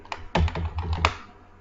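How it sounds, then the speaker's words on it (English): Arrow keys being pressed on a computer keyboard, a quick cluster of several sharp plastic clicks close to the mic, with a slight gap before one final louder tap. "we will press the arrow key to the keyboard"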